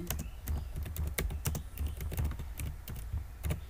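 Someone types a name on a computer keyboard, fingers clicking in a quick, irregular run of close, crisp keystrokes with a soft thudding undertone.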